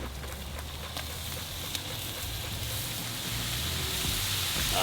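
Ground beef and chopped onion sizzle in a hot pan with a steady, dense hiss that slowly grows a little louder and stays unbroken throughout.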